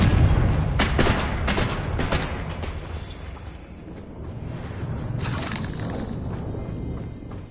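A Confringo fire spell explodes in Hogwarts Legacy, opening with a loud booming blast followed by a rumbling, crackling sustained roar and a second surge of fiery bursts, with no talk.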